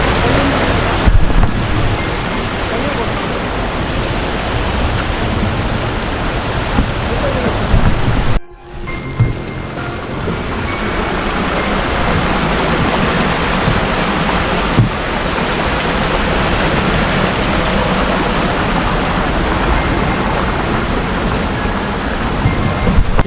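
A small waterfall along the Agathiyar Malai trek in the Pothigai hills rushes as a steady, full broadband roar that briefly drops out partway through. No one speaks.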